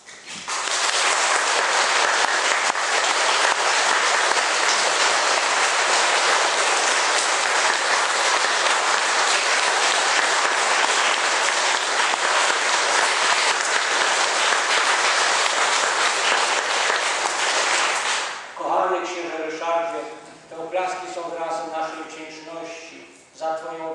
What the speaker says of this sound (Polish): A oklaskami powitajmy Jego obecność wśród nas.